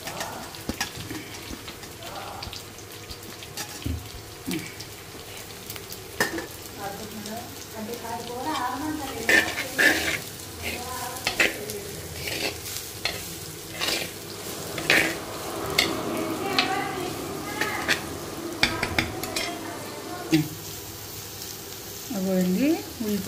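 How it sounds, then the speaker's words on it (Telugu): Onions frying in a pan for bitter gourd curry, a low sizzle beneath frequent spatula knocks and scrapes against the pan, with a voice talking over it. "ఉల్లిపాయలు వేసి దోరగా వేగించుకోవాలండి"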